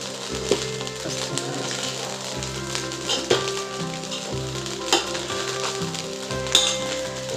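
Cold lemon rice (nimmakaya pulihora) sizzles steadily in a hot pan as it is reheated and stirred, with scraping strokes of the spatula recurring over a continuous frying hiss, close and fairly loud, no voices.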